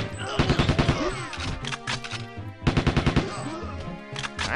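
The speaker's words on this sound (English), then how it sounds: "Yes, the M14 is in fact fully automatic too." A fully automatic M14 rifle fires in a Goldeneye 64 mod, loud rapid bursts of shots in two strings separated by a short pause, with a light echoing ring between rounds.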